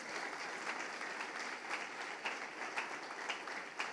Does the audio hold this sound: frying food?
no